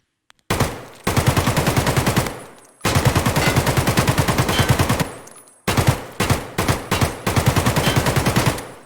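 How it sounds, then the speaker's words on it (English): An automatic weapon firing on full auto in Escape From Tarkov, loud close bursts of rapid gunfire: two long sustained strings, then several short bursts ending in a longer one. "Try this out, put it on full auto."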